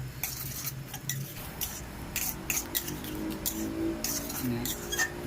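A spatula scrapes and clatters in a pan as seasonings are tossed together for a stir-fry of crispy fried catfish with holy basil, with light metallic taps and scrapes under a man's speech.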